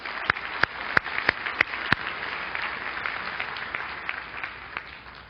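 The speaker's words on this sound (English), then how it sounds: "Let's give them all a round of applause" An audience applauds steadily for several seconds, a dense wash of clapping with a few sharper claps standing out near the start, fading slightly toward the end.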